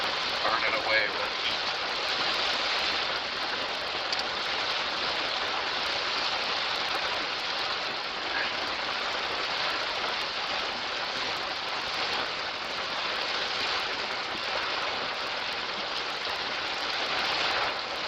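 Steady broadband rain hiss during a storm, heard from inside a vehicle, constant and loud for the whole stretch with no pauses.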